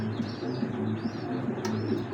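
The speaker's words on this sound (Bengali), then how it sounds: "সাপচিলা ব্রিডের কবুতর" A Sapchila breed pigeon coos softly in a repeating low rhythm, a few gentle coos over a faint, steady background with an occasional higher chirp.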